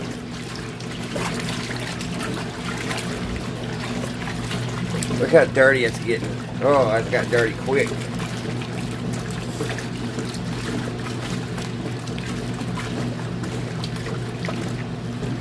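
An old wringer washer churns and sloshes water back and forth in a steady rhythmic swish beneath a constant low motor hum, with someone talking briefly over it.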